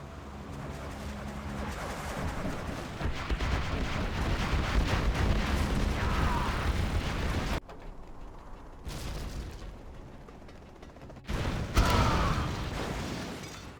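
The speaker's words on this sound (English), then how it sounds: "Artillery now from Marakar." Artillery fire in a real-time strategy game, with a dense rumbling barrage of booms and mechanical clatter that cuts out twice and then returns with a sharp loud blast.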